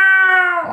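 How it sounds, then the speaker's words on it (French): A single loud, drawn-out Bengal cat meow, close and clear, with a harsh, slightly raspy tone that falls off at the end. "Il a clairement un miaulement de félin."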